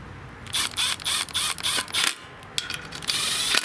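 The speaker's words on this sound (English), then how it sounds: "now what I'm going to do is start these screws up really low on my impact" A cordless impact driver runs in several short bursts, starting screws at low speed on a lawn tractor's engine cover, close up and fairly loud, with a longer steadier run at the end and no talk.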